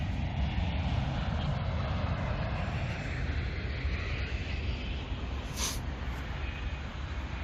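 Strong typhoon-force wind roars steadily across an exposed campsite with no windbreak, a dense continuous rumble with a brief gust-like rush near the end and no talking.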